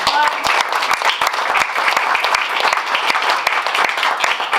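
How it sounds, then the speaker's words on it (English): Audience applause for panelists after a book release discussion, a roomful of people clapping steadily with crisp individual claps standing out, loud and close, with faint voices mixed in. "let's just give our panelists one quick round of applause"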